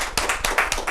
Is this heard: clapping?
yes